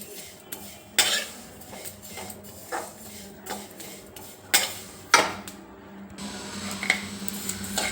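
Sesame seeds dry roasting in a pan, stirred with a utensil that gives off scattered clinks and scrapes against the metal at an uneven pace, near and fairly quiet, with no voices.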